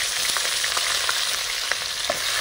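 Onion and tomato fry together in a pan with whole cumin and green chilli, giving a constant loud sizzle with occasional stirring clicks and scrapes. No one speaks.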